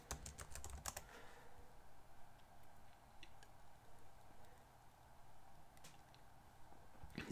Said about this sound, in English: type in what is my IP